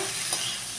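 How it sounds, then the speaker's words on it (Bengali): Prawns frying lightly in a pan while being stirred, a soft steady sizzle with a brief scrape of the spoon, faint and close, no voices. "ভাজতে থাকি, একটু হালকা ভাজবো"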